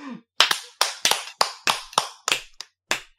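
About eight separate hand claps land in a slow, even rhythm, close and crisp with silent gaps between them and no voices.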